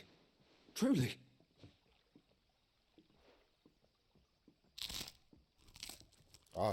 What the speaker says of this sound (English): Oh, some crunchy ass bread.